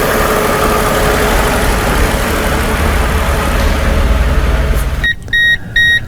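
A 1997 Mercedes-Benz E320 with a misfire idles loudly and steadily up close, a rough continuous engine drone, and near the end a few short electronic beeps cut in over it.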